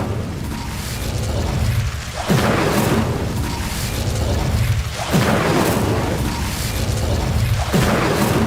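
Incendio fire spell cast in Hogwarts Legacy on Xbox Series: loud, roaring bursts of flame that rise sharply about every three seconds, three in all, over a continuous dense rushing bed, with no talk.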